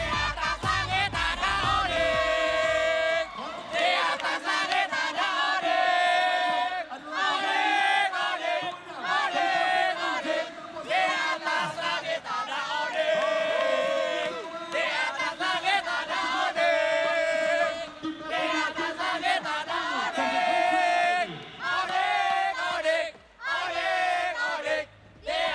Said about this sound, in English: can we hear the chant or the cheer for Team Onyx?